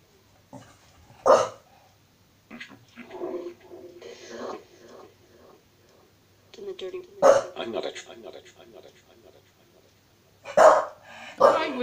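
Dog indoors gives several sharp, separated barks at intervals while someone speaks softly, almost whispering, in between; the barks are close and punchy.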